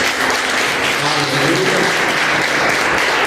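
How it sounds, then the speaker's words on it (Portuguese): A church congregation at a Christian community service applauds steadily for the whole stretch, with dense, even clapping that fills the room and a faint hum of voices beneath it. "Você pode aplaudir a Deus por essa palavra."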